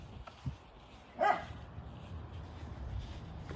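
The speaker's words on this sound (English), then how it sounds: "I didn't even let the dog outside." A house dog gives one short, sharp bark in a quiet indoor room, preceded by a faint yip, with low background noise afterward.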